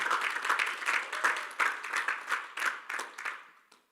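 A church congregation claps together in steady, rhythmic applause that holds for several seconds before tapering off, with no voices heard over it.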